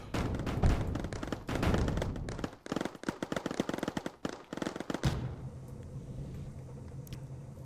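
Enemy units firing in the video game Mindustry, rapid machine-gun-like bursts of shots that rattle in dense volleys for about five seconds, then cut to a quieter low rumble with scattered faint clicks, and no speech.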